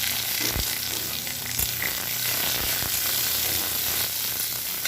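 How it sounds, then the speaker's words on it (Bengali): Chopped onion, split green chillies, whole poppy seeds and whole black mustard seeds fry in hot oil, giving a loud, steady, dense sizzle with a few soft knocks from the pan, and no voices. "লাল লাল করে ভেজে নেব পেঁয়াজটাকে।"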